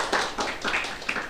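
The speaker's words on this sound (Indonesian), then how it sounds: "boleh tepuk tangan boleh" A brief burst of applause from a church service congregation, several soft claps blending together at moderate distance.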